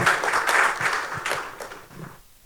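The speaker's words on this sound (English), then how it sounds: "Please give him a round of applause" Applause from an audience at a corporate technology event at Dusit Thani, welcoming a speaker to the stage; scattered clapping that fades out over a couple of seconds.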